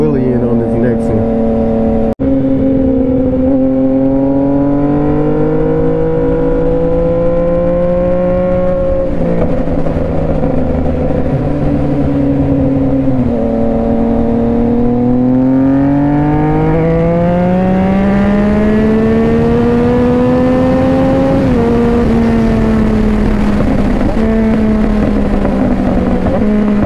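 Harley and sportbike motorcycles ride together, their engines droning and revving loudly and continuously, pitch rising and falling through gear changes as they pass close by, with occasional voices under the engine noise.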